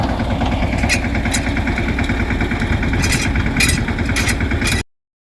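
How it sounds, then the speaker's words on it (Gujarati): A steady, close tractor engine idles and chugs with a low rhythmic rumble while spraying pesticide in a groundnut field, joined by brief hissing bursts, until it cuts off abruptly near the end. "ટ્રેક્ટર વડે દવા છંટકાવ ચાલુ કર્યો છે"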